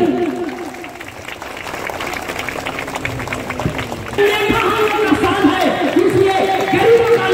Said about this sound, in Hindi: चलिए आप लोग ताली बजाते हैं